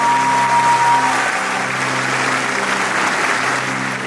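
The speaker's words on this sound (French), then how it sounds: "On peut les applaudir." A theater audience applauds the cast and crew of a West Side Story production: loud, dense, sustained clapping that fills the room evenly for several seconds without letting up.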